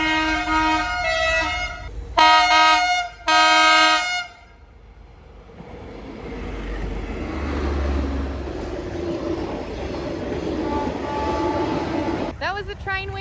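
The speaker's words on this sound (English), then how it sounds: "we obviously can't get through because the train is coming." Several loud, long train horn blasts sound close by in Vietnam, followed by the deep rumble and rattle of a train rolling past.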